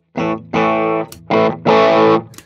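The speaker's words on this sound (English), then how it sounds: "this is a Jeff Beck version of the Archer, and it's basically a Klon-type pedal" An electric guitar runs through a Jeff Beck Archer Klon-type clean boost pedal adding gain and body, playing four sustained, slightly driven chords in a row, each ringing about half a second before cutting off cleanly.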